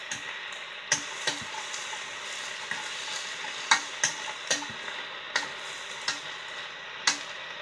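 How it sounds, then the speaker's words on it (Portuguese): A utensil stirs sliced bell peppers for a quick homemade pizza topping in a sizzling pan, with regular close taps and scrapes against the pan over a steady soft fry. "Misturamos."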